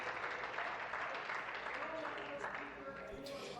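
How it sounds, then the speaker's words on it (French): Parliamentary question period applause: a continuous wash of clapping from many members in a large chamber, fairly distant and quiet, with speech running over it. "Et donc, applaudissons-le, s'il vous plaît."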